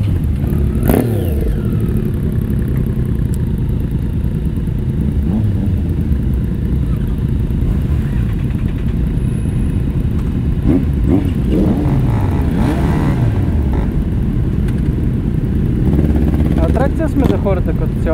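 Many motorcycles gathered at an open bikers' meet in London, engines rumbling and revving in overlapping bursts, loud and close, with people talking among them.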